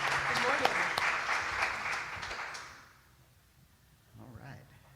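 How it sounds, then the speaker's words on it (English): An audience applauds a guest artist, loud clapping for about three seconds that fades out, followed by a brief quieter sound, with no one speaking. "Give her a round of applause."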